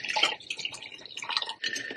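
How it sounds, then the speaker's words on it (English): BTS cold brew coffee poured straight from an unsealed bottle into a glass, a steady close liquid stream with brief splashy pauses. "You can literally just pour it in. So that's what I'm going to do."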